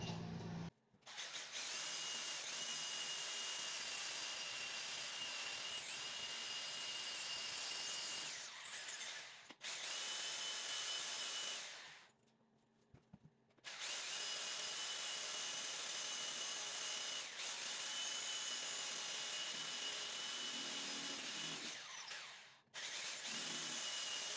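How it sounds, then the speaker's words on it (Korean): A drill bores into bathroom wall tile by rotation alone, with no hammer action: a close, high, steady grinding whine in long runs, broken by several short pauses. "천천히 한마를 사용하지 않고 그냥 회전으로만 구멍을 뚫는 방식으로"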